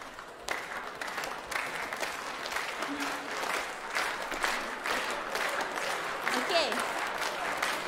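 A group of people claps along during a participatory activity at an international food and culture fair, the steady rhythmic clapping continuing throughout while voices talk and give instructions over it.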